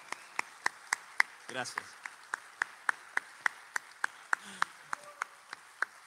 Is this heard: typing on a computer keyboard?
no